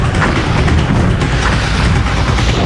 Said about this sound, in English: Waterworld is a live-action show with actors in close proximity to shooting flames and exploding fireballs